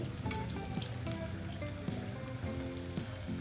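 A snack sizzles steadily in hot oil until golden, giving a continuous close bubbling and crackling with small spattering pops throughout.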